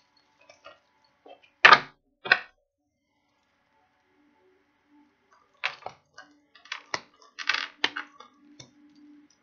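Crisp riffling bursts of tarot cards being shuffled, two quick flurries then a longer stretch of clicks and flicks, close and fairly quiet with no talking.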